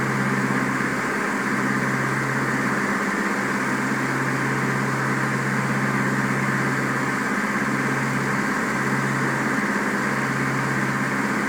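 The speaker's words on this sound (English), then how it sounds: "pull the throttle back and set the power for 2100 RPM on the tachometer" Light aircraft engine throttled back to 2100 RPM in level cruise, a loud, steady droning hum that stays even and continuous throughout, with no voices over it.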